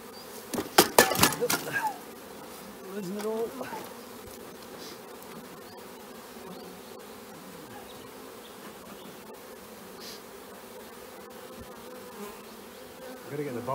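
Honey bees swarm around an open beehive with brood and fresh wax, a steady close droning buzz throughout, opening with a few loud clattering knocks of hive equipment.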